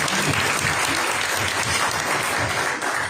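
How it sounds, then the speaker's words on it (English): A meeting audience at a Rotary Club gathering gives a steady round of applause to welcome guests, dense and continuous clapping filling the room at full volume throughout. "a nice round of applause to welcome all of our guests today"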